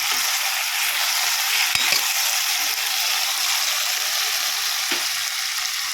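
Bitter gourd and onions frying in oil in a pan, a steady close hiss of sizzling with a couple of brief clinks of a utensil.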